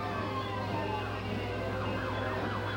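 Orange County Fire Authority Engine 219 sounds its siren at a Lake Forest, California Fourth of July parade, a wavering, warbling wail cycling rapidly over a steady low engine rumble, close and continuous.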